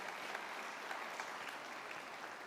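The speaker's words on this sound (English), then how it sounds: "if there was ever an applause line" Sustained audience applause at a San José State of the City speech, a dense, steady clapping crowd filling the whole stretch without a pause.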